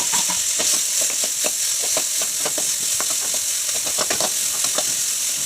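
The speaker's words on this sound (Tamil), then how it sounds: "தக்காளி, பச்சை மிளகாய், அந்த கருவேப்பிலை எல்லாத்தையும் போட்டு நல்லா வதக்கணும்" Tomato, green chili and curry leaves sauté in hot oil with a steady close sizzle, broken by repeated quick scraping taps of a spatula stirring the pan, with no voices.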